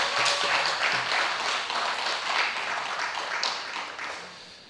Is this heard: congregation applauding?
yes